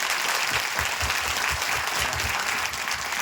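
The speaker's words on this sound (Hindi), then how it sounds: "तो एक बार फिर से जोर से ताली बजाएंगे" A church congregation claps loudly and continuously, dense and steady applause filling the room throughout.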